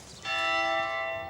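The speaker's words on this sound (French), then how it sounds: "les cloches devraient sonner maintenant" A church bell in Alsace strikes once with a bright, sustained ringing tone that starts sharply and rings on steadily, clear and moderately loud against a quiet background.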